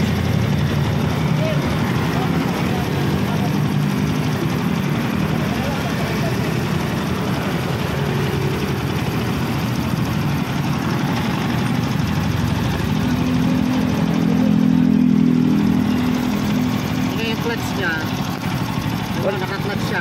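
A misfiring NS125 FI motorcycle engine that lacks pulling power runs steadily up close, a continuous rough idle rumble with a slight swell near the end, while people talk over it.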